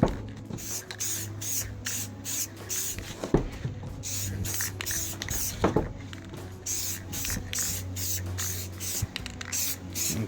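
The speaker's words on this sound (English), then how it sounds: "Okay, so I'm gonna start spraying." Repeated short hissing bursts of an aerosol spray paint can coating a car's front bumper lip, evenly spaced and close by, with a couple of faint clicks and knocks in between.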